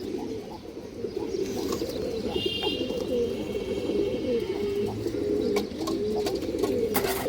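Large Indian high-flyer Kaldom pigeons with jet-black tails coo continuously nearby, a rolling, overlapping murmur of low calls with a faint higher chirp early on.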